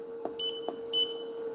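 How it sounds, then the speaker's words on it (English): Two short electronic beeps from a DTF printing machine, evenly spaced, over a faint steady hum and small clicks. "this one has a lot of beeping, so sorry."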